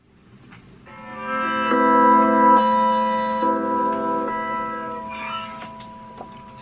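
A track plays from a vinyl record, sustained tonal chords swelling after a quiet start and holding steady before thinning out near the end, with no talk.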